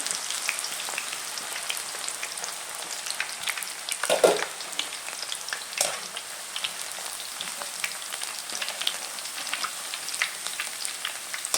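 Cut cassava chips fry in hot groundnut oil, a dense, even crackle and bubbling like rain that holds steady throughout, with one brief louder splash or stir near the middle and no talking.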